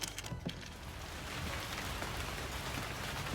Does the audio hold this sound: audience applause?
no